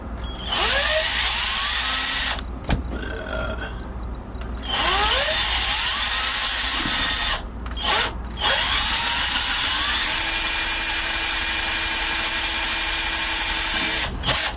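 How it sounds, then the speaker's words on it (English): A power drill whirs loudly and close up, grinding through a silicone seal strip around a Thetford Tecma toilet switch in several long bursts separated by short pauses. "We're going to drill right through this seal strip."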